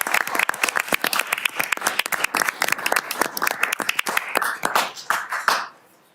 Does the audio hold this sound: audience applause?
yes